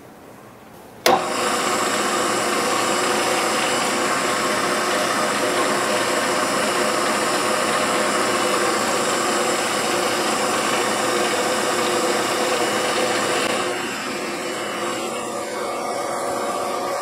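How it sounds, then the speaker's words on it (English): Power drill boring into an LS crankshaft counterweight during balancing, a steady loud whine starting abruptly after a second, holding for about twelve seconds, then dropping slightly in level. "now we're gonna drill the front one and bring it in"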